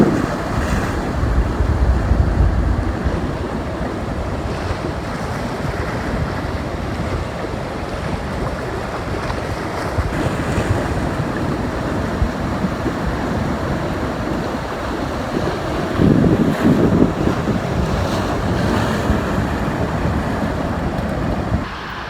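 Ocean waves and wind roll in on the Galveston Island shore, a steady broad wash of surf with gusty wind noise buffeting the microphone throughout, no voices.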